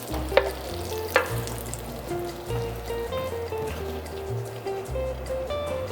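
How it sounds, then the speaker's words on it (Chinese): Mixed vegetables and mushrooms hit hot rendered goose-liver fat in a pan and are tossed, giving a soft, continuous sizzle with a couple of sharp clacks from the utensil, all fairly quiet under a gentle tonal backing. "煎完鹅肝的油，倒入蔬菜和蘑菇，煸炒一下"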